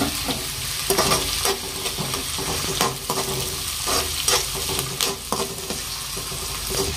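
Onions and tomatoes frying in a pan, a continuous close sizzle punctuated by repeated scraping strokes of a spatula in an irregular rhythm, fairly loud and steady with no talking.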